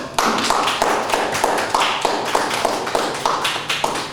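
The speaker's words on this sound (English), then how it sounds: "Give yourselves a round of applause." An audience claps in a fairly even rhythm, with a dense run of sharp hand claps about three per second, loud and close, continuing without a break.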